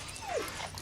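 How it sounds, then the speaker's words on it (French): A dog in a horror film whimpers as it refuses to go into a house, one brief, high falling whine over a muffled, noisy film soundtrack. "Un chien qui veut pas rentrer dans une maison là."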